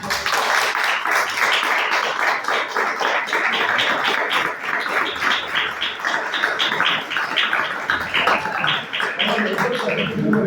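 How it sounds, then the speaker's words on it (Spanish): Applause at a book presentation, renewed for guests: continuous clapping throughout, loud and fairly close, with voices talking under it. "Renovamos el aplauso"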